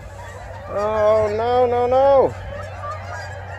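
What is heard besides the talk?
Canada geese honking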